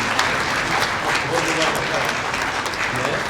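Dense audience applause fills a prize distribution ceremony at a science college, many hands clapping steadily and loudly throughout with crowd noise underneath.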